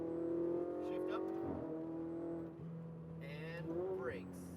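A Ferrari 488 GTB on a race track climbs in revs, drops sharply on an upshift, then pulls hard again through a second rising sweep, heard from inside the car with a loud, continuous engine note.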